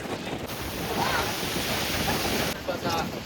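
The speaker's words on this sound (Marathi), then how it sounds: "वारं लय सुटलंय" Strong wind buffets the microphone at Shiroda beach, a loud steady roar of gusts over crashing surf, blowing without pause for the whole stretch.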